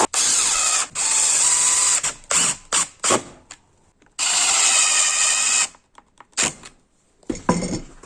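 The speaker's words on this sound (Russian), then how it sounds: "Теперь берем и накручиваем саморезы." Cordless drill driving self-tapping screws into a wooden board, loud whirring bursts of several seconds each, with short pauses and quick stop-start triggers between screws, close up.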